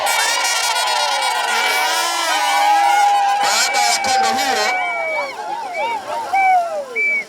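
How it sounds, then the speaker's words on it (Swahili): A crowd at a church welcoming ceremony for a bishop in Bariadi, Tanzania, ululates with shrill, wavering trills over clapping and cheering. The sound is loud and close, then thins into scattered trills and voices. "Tumshangilie kwa kupiga makofi mengi na vigelegele."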